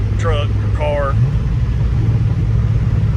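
An LS-swapped S10 truck with a T56 six-speed manual cruises at highway speed with low engine revs, a steady low rumble filling the cab while a voice speaks briefly over it early on.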